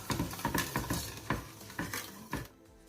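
Butter and sugar are stirred together in a pot over low heat on the stove, a spoon scraping in about half a dozen steady, close strokes with a soft sizzle beneath, then the stirring stops.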